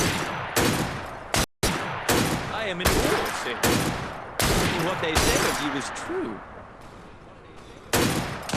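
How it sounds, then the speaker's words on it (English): Gunshots in the Assassin's Creed Syndicate video game, a series of loud sharp cracks and bursts at irregular intervals, some in rapid succession, with a voice talking between shots. "That sounded like a second gunshot."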